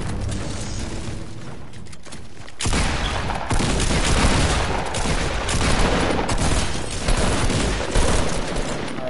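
Fortnite gunfire rattles continuously in sustained loud bursts with booming impacts, a heavy fusillade that intensifies partway through and keeps going.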